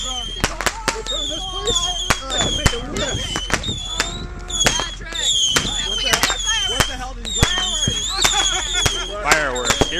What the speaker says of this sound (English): Fireworks, here we go.